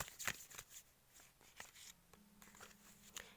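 Oracle cards are shuffled by hand in soft, quick flicking bursts with short pauses between them, faint and close, with no talking.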